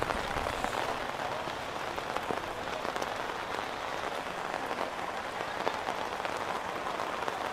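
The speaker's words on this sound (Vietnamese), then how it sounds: "Ôi ôi, mưa rét quá các bạn ơi." Steady rain patters on surfaces at a cold, wet ethnic mountain market at Lùng Phình in northern Vietnam, a dense, even hiss of drops filling the whole stretch without talk.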